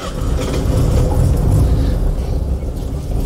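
VW Type 3 or Beetle air-cooled engine rumbles on a test drive after a battery replacement, a loud, steady low drone with slight rises and dips as it pulls along.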